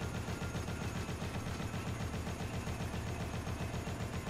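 Rapid automatic gunfire in Dead Rising rattles in a dense, unbroken stream of loud shots at an even, fast rhythm from start to finish.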